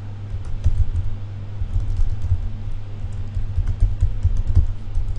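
Steady typing on a computer keyboard, a close run of soft, irregular key clicks with a low hum underneath and no talking.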